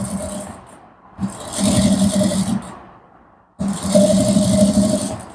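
A sewing machine top-stitching a danshiki runs in three steady whirring bursts, with short pauses between them; the motor hum is close and fairly loud.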